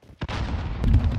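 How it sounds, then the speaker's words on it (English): A grenade explodes in a first-person shooter video game, a sharp pop followed by a heavy, rumbling boom that sustains and swells toward the end. "Throwing grenade!"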